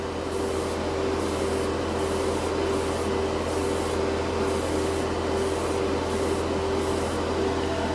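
An airbrush spray gun lays a final wet coat of Vallejo Shift paint on a scale model part, a steady close hiss with a constant compressor hum and a rhythmic pulsing as the spray passes repeat.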